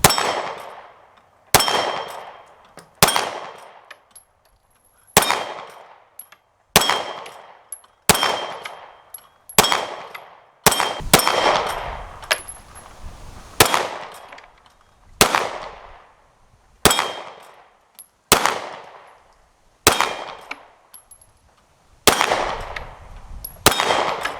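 A Shield SMSc red dot pistol fires at the range, with each shot followed by a ringing clang from steel targets. Roughly fifteen loud, sharp reports come at irregular intervals, and each one decays into a metallic ring.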